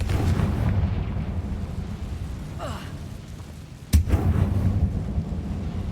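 A Confringo blasting curse explodes in the Hogwarts Legacy video game. A low, rumbling blast swells under a steady background roar, and a sharp crack lands near the end.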